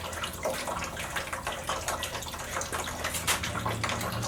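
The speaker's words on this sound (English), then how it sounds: "the water is draining" Water drains steadily from a 1970 Plymouth Duster 340 drag car into a catch pan, a continuous close splashing and trickling with no talk over it.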